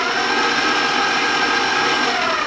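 An electric mixer beats lemon juice into creamed butter and sugar, a loud steady motor whir with a constant high buzzing drone that holds unchanged throughout, no voices over it.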